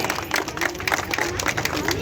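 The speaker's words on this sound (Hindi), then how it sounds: "CCG ग्रुप के लिए जोरदार तालियां।" A crowd at a chamber of commerce fair applauds the CCG group with sustained clapping, moderately near, under a hubbub of voices.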